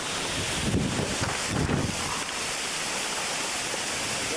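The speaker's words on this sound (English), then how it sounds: "Here comes another gust." Strong hurricane wind gusts during Hurricane Bob in 1991, a loud, sustained roar of rushing air buffeting the microphone, with heavier surges swelling near the start before settling into a steady howl.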